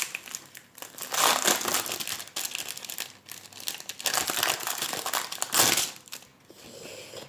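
Wrapping paper inside a package crinkles and rustles loudly and continuously, with repeated bursts of crumpling handled close up and no talking.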